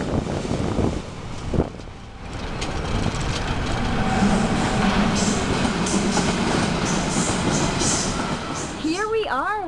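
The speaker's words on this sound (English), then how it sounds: "There's an S up above, up ahead even. You can hear the train." An S-Bahn train rumbles past overhead on an elevated line in Berlin, a steady broad roar with clickety-clack building through the middle. Wind buffets the microphone and a brief squeaky sound rises near the end.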